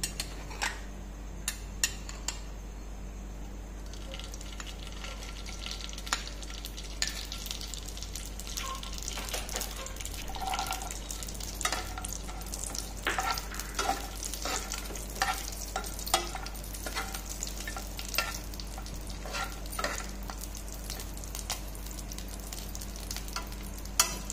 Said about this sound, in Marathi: आता आपण ड्रायफ्रुट्स थोडे तुपामध्ये परतून घेऊ